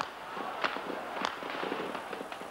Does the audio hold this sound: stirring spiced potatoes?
no